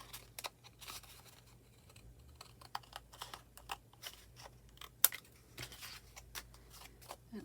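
Scissors snip paper for a junk journal specimen card, giving a close, quiet run of crisp little clicks and crunches with one sharper snap partway through.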